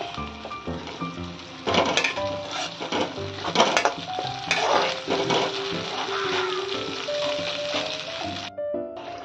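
Shrimp and young jackfruit kofta paste is stir-fried in a pan with lightly fried onions. A steady sizzle runs under background music, with scraping stirs and occasional clatters throughout.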